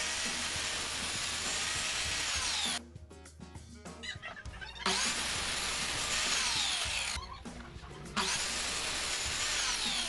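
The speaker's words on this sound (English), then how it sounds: "I'm turning the miter saw angle to 45 degrees to cut the pieces for the tabletop" Miter saw set to a 45-degree angle cutting pallet wood pieces for a chevron tabletop, loud whining cuts broken by two short pauses with lighter clattering before the blade spins up again.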